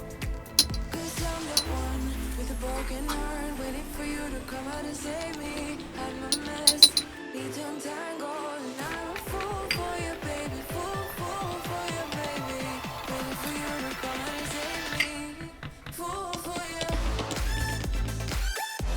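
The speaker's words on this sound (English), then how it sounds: "And then I am going to stir it up." Glue and food coloring being stirred for slime, with repeated clinks and scraping taps of a utensil against a container in uneven bursts, fairly close, with no talking.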